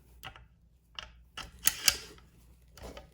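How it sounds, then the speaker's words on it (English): Bolt slid into an Elf Owl 300 Blackout rifle: a few sharp metallic clicks and clacks, spaced irregularly, close and fairly quiet with silence between. "Put the bolt in."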